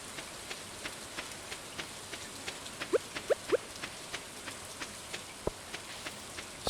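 Rain falls in the farming video game Stardew Valley, a soft steady patter with regular light ticks and a few brighter drips, quiet and even with no voices.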